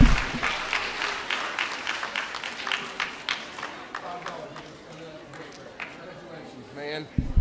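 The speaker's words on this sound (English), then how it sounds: "Give him a round of applause." A middle school assembly audience applauds, a dense burst of many hands clapping that gradually thins out, with voices speaking over and after it.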